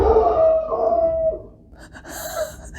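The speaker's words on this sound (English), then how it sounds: "Did you guys hear a dog barking?" A dog lets out a long wavering howl that slides downward, followed by a brief higher whine, close by.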